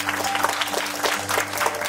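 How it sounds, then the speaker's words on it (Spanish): Applause for the parents at a quinceañera celebration in Salt Lake City, a steady wash of clapping from the gathered guests with a low steady hum running beneath it. "Un fuerte aplauso, por favor, a los papás y Alma Ramos."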